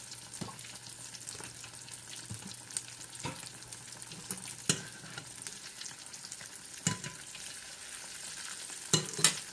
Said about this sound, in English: So let this fry for about 2 or 3 minutes on each side